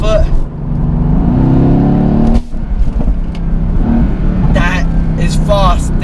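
A Mercedes-AMG GT S with a twin-turbo V8, in Sports Plus mode, pulls hard under full throttle. The engine note climbs loudly, breaks off briefly, then surges again, and a voice can be heard partway through.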